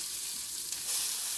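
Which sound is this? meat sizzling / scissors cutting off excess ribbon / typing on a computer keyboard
meat sizzling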